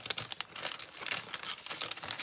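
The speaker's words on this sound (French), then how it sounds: "vous devez mettre votre doigt au plus près, enfin entre vos deux pouces, pour que ça déchire à l'endroit où vous voulez que ça déchire" Paper torn by hand for a collage gives close, soft crinkling and ripping rustles in irregular bursts, quiet and with no talk.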